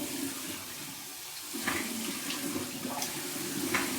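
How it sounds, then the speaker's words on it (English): Cold water runs from a bathroom tap, a steady gushing stream with brief splashy bursts as hands rinse a face, fairly close and with no talking. "here we go with our final cold water rinse from the tap"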